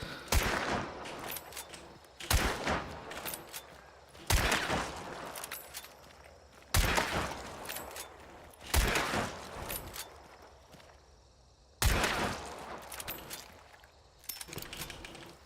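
Rapid gunfire while strafing in a video game, coming in repeated sharp bursts every couple of seconds, each a cluster of crisp shots that decays quickly, loud and close with no voices over it.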